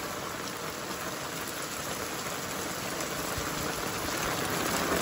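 Heavy rain pours down in a dense, steady hiss of countless drops striking surfaces nearby, loud and unbroken with no voices.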